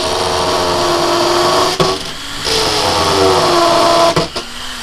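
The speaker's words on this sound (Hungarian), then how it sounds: "Tivadar, fúrd fel a kampót," A power drill whines loudly and steadily as it drills a hole for a hook, briefly pausing and restarting twice, its pitch shifting as it bores in close by.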